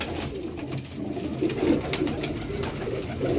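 Zeera pigeons coo in low, soft, repeated rolling calls, close by against a steady background hum.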